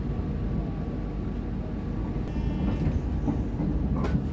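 A passenger train departing Kroya station in Indonesia rumbles steadily nearby with a low, continuous roar, faint squeals and rattles rising toward the end as it gets moving.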